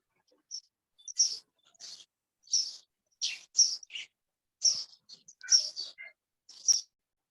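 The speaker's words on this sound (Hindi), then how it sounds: "चिड़िया बहुत बोल रही हैं।" Birds chirp in short, bright bursts of tweets and calls, about a dozen separate phrases spaced across the stretch, clear and fairly close against otherwise quiet surroundings with no talking.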